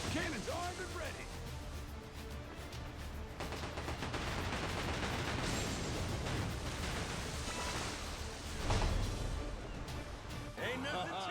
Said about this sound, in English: Cannons armed and ready.